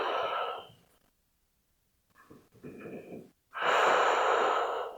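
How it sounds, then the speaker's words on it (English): Deep yoga breaths taken while lying curled on the side: a long, close exhale fades into silence, then a shorter breath follows and a strong, airy inhale swells in at the end, with no talking. "Take a breath or two."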